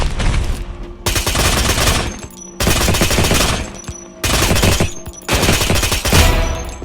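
Automatic gunfire in the Free Fire mobile game, four loud sustained bursts separated by brief gaps, close and dominant.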